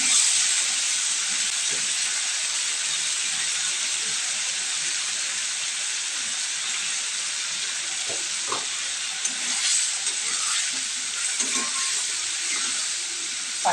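Spice paste frying in hot oil with already fried potatoes for a Bengali bata fish curry, a continuous sizzle and hiss with occasional soft stirring scrapes and small pops, close and steady without talk.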